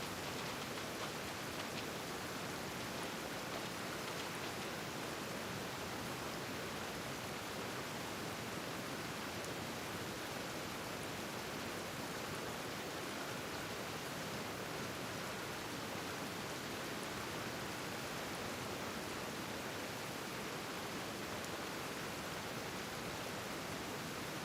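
Rain in Genshin Impact falls as a constant, dense wash of noise, steady and unbroken throughout, with no voices over it.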